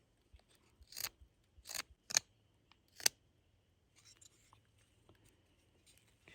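Sumac wood being cut to rough length for a sap spile, heard as four or five sharp, close snipping crunches spaced about a second apart, followed by quieter handling rustles.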